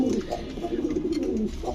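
Pigeons coo in low, soft, continuous murmurs at a pigeon market, close by, with faint voices in the background.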